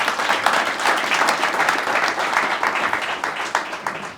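Steady applause from an audience at a business conversation event, dense overlapping claps sustained for several seconds at moderate loudness, with faint crowd murmur underneath.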